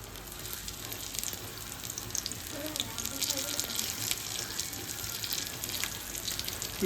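Rolled chapati vadi with onion topping frying in oil on a tawa, a steady close sizzle that builds slightly and holds, without speech.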